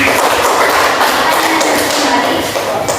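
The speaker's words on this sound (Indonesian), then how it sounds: "Kasih aplaus untuk kelompok 2" Applause from a classroom full of students for a presenting group: dense, steady clapping that holds at an even loud level for the whole stretch and fades only slightly at the end.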